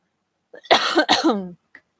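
A single cough: two sharp, harsh bursts close together, close and fairly loud, with a short throat sound after them and no one speaking.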